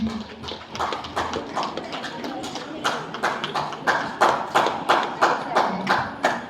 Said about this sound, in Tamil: பார்வையாளர்கள் கைத்தட்டி உற்சாகப்படுத்தும்படியாக கேட்டுக்கொள்கின்றேன்